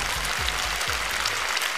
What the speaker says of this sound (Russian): Ваши аплодисменты, дамы и господа.